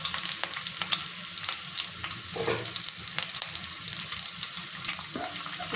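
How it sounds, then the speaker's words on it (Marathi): Chopped garlic, two small green chillies and curry leaves sizzle in hot oil in a pan, a dense, fairly quiet crackling hiss with scattered pops and a few stirring knocks, no talking. "तेल गरम झालेलं आहे त्याच्यामध्ये बारीक चिरून घेतलेला लसूण टाकते दोन छोट्या मिरच्या टाकल्यात आणि कढीपत्ता"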